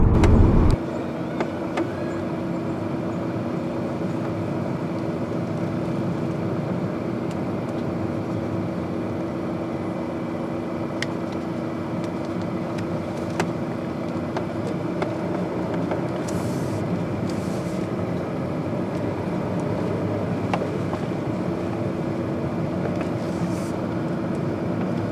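A car drives along the road toward the Koenigsegg factory, with a steady, continuous engine and road rumble heard from inside the cabin and no talking.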